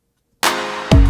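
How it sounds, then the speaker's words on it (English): A reverb-heavy clap effect for an EDM and pop transition: a broadband clap bursts in after silence with a long washy tail, then a second, louder hit lands near the end over a deep low sweep. "followed up by that reverby clap"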